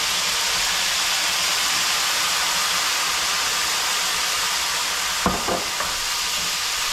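White wine splashes into a pan of lightly browned onions, garlic and risotto rice for a red beet risotto, producing a constant close sizzle and hiss with a couple of dull knocks near the end.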